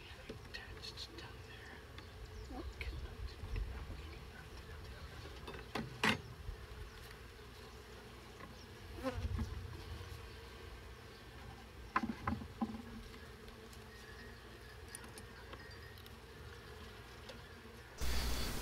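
Honey bees buzzing around an open hive during a beehive inspection, a soft steady drone with occasional louder passes close by and faint handling noises.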